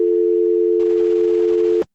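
A steady telephone line tone while calling back, one continuous electronic pitch held for nearly two seconds, loud and close, with faint background hiss joining halfway before the tone cuts off abruptly.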